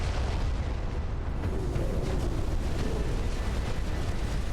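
Warship guns firing in the naval battle game Ultimate Admiral: Dreadnoughts, a heavy continuous rumbling boom with a deep low roar and windy noise throughout.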